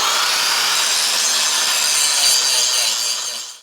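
A blade cuts through the metal of an extended truck frame on a dually Avalanche, giving a loud, steady, harsh rasping hiss that runs nearly unbroken before cutting off at the end.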